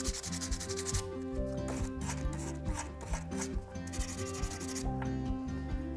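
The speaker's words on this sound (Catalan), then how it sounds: "Ara agafem el paper de vidre, començarem pel més gruixut, és a dir, pel número més baix. I el que farem és fregar" Sandpaper rubs steadily over the top of a lost-wax cast ring, coarse grit first, in a continuous scratchy scrubbing with repeated strokes and a faint tonal hum underneath.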